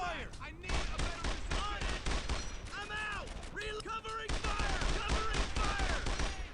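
Rapid bursts of World War II gunfire in the Brothers in Arms: Earned in Blood video game, with repeated rifle and machine-gun volleys crackling through the whole stretch amid battle noise.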